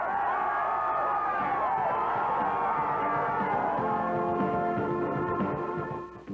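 A crowd of spectators at a 1993 Colorado state final high school girls soccer match cheers and shouts continuously, a dense, loud roar of many voices with whoops throughout.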